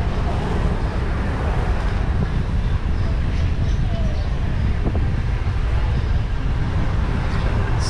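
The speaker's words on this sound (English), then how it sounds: "So windy." Strong, steady wind buffets the microphone while a bicycle rides along the beach at Myrtle Beach, South Carolina. The roar is constant and close, with no clear gusts or breaks.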